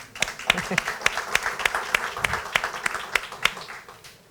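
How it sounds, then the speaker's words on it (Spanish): An audience applauding at the close of a corporate talk, with a steady patter of many hands and a few sharp, louder claps standing out in a regular rhythm, fairly near and lasting throughout. "Un aplauso para ustedes."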